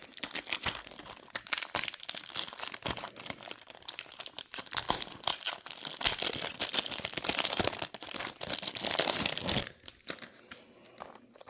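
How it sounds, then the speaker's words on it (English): Tape is peeled and torn from the plastic wrapping around a boxed diecast Land Rover Defender 110 model by Master, giving a close, continuous crinkling and ripping that trails off near the end. "You see it's still in the plastic. Let's get this tape off."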